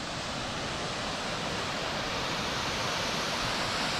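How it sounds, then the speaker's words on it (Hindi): Steady roaring rush of a waterfall among the hills at Maihar, a dense, even wash of falling water that fills the scene continuously without any talk. "और यहाँ से तो झरना देख ही सकते हैं।"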